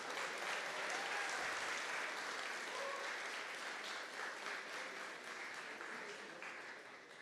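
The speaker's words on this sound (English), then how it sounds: "One more round of applause for this family." A crowd at an awards night gives a family a sustained round of dense, even applause that fills the room without pause and slowly tapers toward the end.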